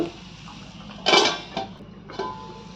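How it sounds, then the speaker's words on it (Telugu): A metal lid is set onto a cooking pot of chana dal and ridge gourd curry, giving one loud clanking contact followed by two smaller clinks, close by. "మూత వేసుకుందాం"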